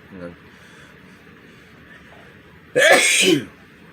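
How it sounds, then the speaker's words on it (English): One loud, close sneeze bursts out after a quiet stretch with a brief murmur at the start. "I'm gonna sneeze here in a second."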